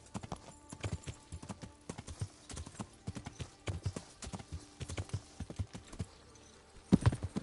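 Horse hooves clip-clop at a steady walking rhythm in the Kingdom Come Deliverance video game, clear and fairly close, with a louder burst of movement near the end.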